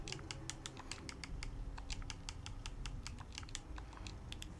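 Rapid typing on a computer keyboard while renaming a gun in Fallout 4, a dense run of close, quiet key clicks in steady bursts with no talk.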